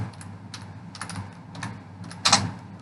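Keys clatter on a computer keyboard while entering student names into an Excel marksheet, a steady run of close, light taps in small clusters ending with a sharper burst of keystrokes, no voice over it.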